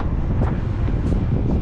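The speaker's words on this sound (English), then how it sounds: "Sorry about the wind." Steady, heavy wind buffeting a microphone during a rooftop HVAC unit inspection at a warehouse, a dense low rumble with gusty swells throughout, loud and close.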